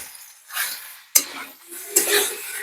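A metal spatula scrapes and clatters through chicken karahi meat in a pan, three separate bursts of stirring with a faint sizzle between them.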